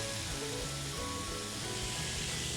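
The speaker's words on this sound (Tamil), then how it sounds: "ஸோ இந்த வெஜிடபிள்ஸ் வேகட்டும், சிம் பண்ணிடலாம்." Vegetables for a vegetable stew simmer in a pan, giving a steady, soft bubbling hiss that stays even and close throughout, with no talking.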